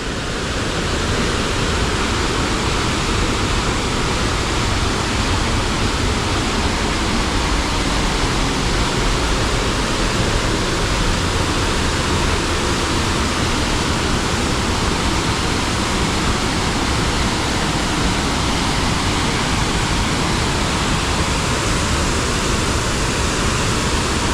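Steady, dense roar of falling water, constant and loud throughout with no pauses or voices.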